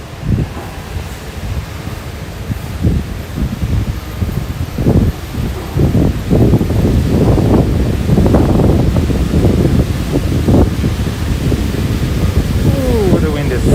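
Strong wind buffeting the microphone on an early-morning walk through Futako Tamagawa, Tokyo, a loud steady rumble with gusting low bursts that swell toward the middle and continue to the end.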